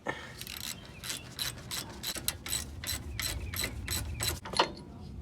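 Ratchet wrench clicking rapidly as an 18 mm caliper slider bolt is broken loose during front brake replacement on a Chevrolet S10 Blazer, with a steady run of close, sharp mechanical clicks and a few louder knocks.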